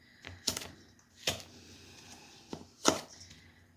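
A pastry blender cuts through margarine in short, sharp chopping knocks, about four distinct strikes spaced irregularly, close and fairly quiet, with no voices.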